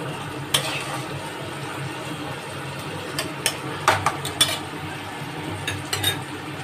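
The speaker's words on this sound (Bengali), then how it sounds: "এবার সব নেড়ে চেড়ে ঢাকা দিয়ে দেবো" Fish curry spices are stirred in a pan on the stove, with soft scraping and a few sharp clinks of a utensil against the pan over a steady low cooking hiss.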